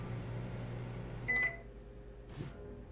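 A microwave oven in the My Friendly Neighborhood video game hums steadily, with a short high beep partway through and a brief burst of noise near the end.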